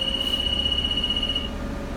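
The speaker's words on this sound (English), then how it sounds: "Make sure the air pressure builds up so the alarm turns off." A steady high-pitched warning tone for low air pressure sounds in a truck cab. It holds continuously for about a second and a half over a low engine rumble, then cuts off.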